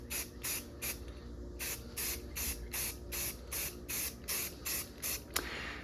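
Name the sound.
spray-painting primer coat on Toyota 4Runner roof rack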